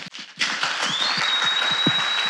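Applause fills a church service; after a few brief claps, a steady wash of clapping begins and carries on, with a thin high ringing tone and low thumps underneath.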